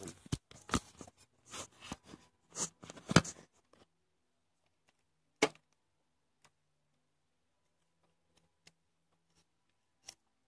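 Duct tape being pulled and torn near an original Xbox during a hard drive upgrade: a cluster of sharp ripping bursts at first, then a few isolated crisp tears and clicks separated by long quiet gaps.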